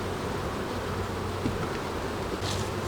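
Honey bees hum in a dense, steady drone at an open beehive, a close, continuous buzz with no pauses.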